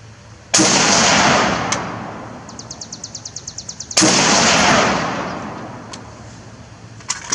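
Two loud, close Beretta ARX 100 rifle shots fired several seconds apart at an outdoor range, each a sharp crack with a long decaying echo, with a few faint clicks and metallic ticks between them.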